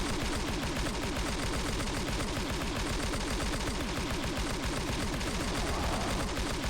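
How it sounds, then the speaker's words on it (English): SMG unloading in the video game Heaven Dust 2, rapid steady automatic fire running without pause for several seconds, loud and dense, with no speech. "we're going to run up to him and just unload our SMG into him now"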